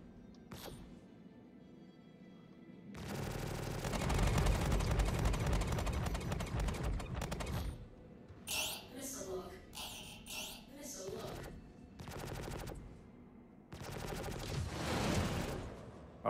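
Ship guns on a Freelancer MIS spacecraft fire in a space combat game, with long loud rattling bursts separated by short gaps and people talking over the shooting.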